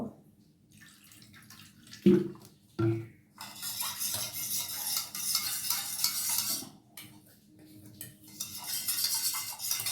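Water poured and stirred into yogurt raita in a bowl, with spoon clinks and scraping against the dish followed by a longer splashing, sloshing pour, close and fairly quiet.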